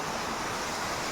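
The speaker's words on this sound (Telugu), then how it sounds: "ఫ్రెండ్స్ ఇదిగోండి వాటర్ ఫాల్స్ చూడండి" A hidden waterfall among hills roars as a dense, unbroken rush of falling water, loud and steady throughout, with no voices.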